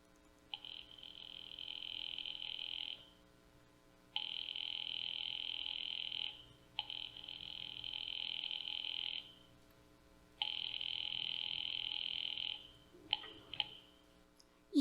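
A telephone sound effect in a live radio drama, with a repeating electronic tone in four long bursts separated by short pauses, followed by a few clicks near the end.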